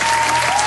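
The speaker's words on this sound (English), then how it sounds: "Let us once again give them a round of applause." Audience applause for the entrance of university ambassador contestants at a pageant, a brief, dense burst of many hands clapping together.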